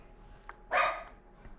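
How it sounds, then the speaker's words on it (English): Dogs barking indoors nearby during trout cooking, one short clear bark preceded by a faint yip, otherwise quiet. "Sorry about the dogs."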